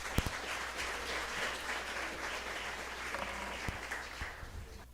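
Steady applause from a church congregation, a dense wash of clapping that holds evenly for several seconds with a few sharper claps standing out near the front before it begins to thin.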